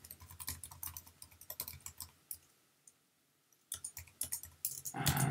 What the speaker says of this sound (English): let's type in the username